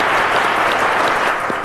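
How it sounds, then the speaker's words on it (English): Sustained audience applause on a quiz show, a steady dense wash of clapping from a studio crowd that runs the whole stretch without a break, tapering only slightly at the very end. "Ladies and gentlemen, round of applause."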